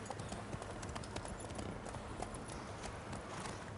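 In The Witcher 3, Geralt's horse Roach trots with quick, regular clip-clopping hoofbeats close by, a steady brisk rhythm over a soft background bed of game ambience.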